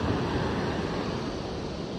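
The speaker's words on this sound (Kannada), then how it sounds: "ಇಲ್ಲಿ ಆ ಕಡೆ ಬರ್ತದೆ ನೀರು" A steady, loud roar of rushing water at Hidkal Dam, broad and constant like a torrent pouring through a spillway, with no voices.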